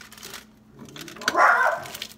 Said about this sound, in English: Guard dog at work.